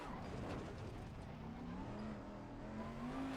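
A race car engine in a racing game pulls out of the pits, a steady tonal drone climbing slowly in pitch as it accelerates, faint and continuous with no talk.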